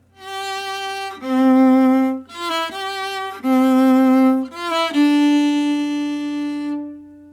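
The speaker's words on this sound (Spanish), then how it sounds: "vamos a tocar desde esta nota Sol hasta esta nota Re" Solo violin plays a theme from G up to D, a sequence of sustained bowed notes with brief gaps between phrases, close and clear, ending on a long held tone.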